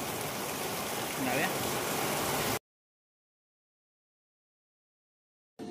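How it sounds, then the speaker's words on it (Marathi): Steady, dense hiss of heavy rain for a couple of seconds, then abrupt silence before the rain noise briefly returns at the end. "खूप पाऊस पडतोय"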